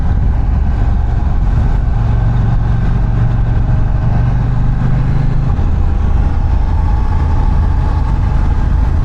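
A KTM 790 Duke motorcycle engine hums loud and close while riding, a steady low droning tone with a brief rise in pitch partway through before settling back, accompanied by constant wind rumble and no talk.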